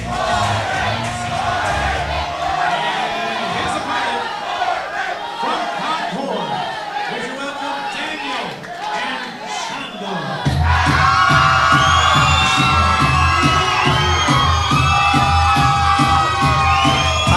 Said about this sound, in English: we heard the crowd erupt louder than we have for any fighter making their walkout tonight